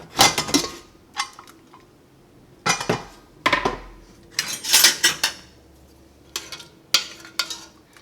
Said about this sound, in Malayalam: കുക്കർ തുറക്കുക.